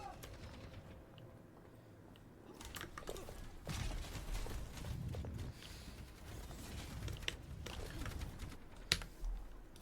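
Computer keyboard keys clatter in rapid, uneven bursts during an online game session, close and continuous for about ten seconds, with a few sharper louder keystrokes near the end.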